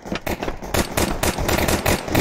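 Rapid bursts of loud, sharp Counter-Strike 2 gunfire in quick succession, like automatic weapon fire, dense and continuous with no talking.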